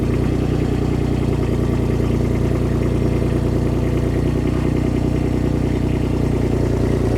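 A Baumalight TRL620D mini skid steer's Kubota diesel engine runs at a steady idle, a constant low drone with faint mechanical chatter, close and continuous with no talk.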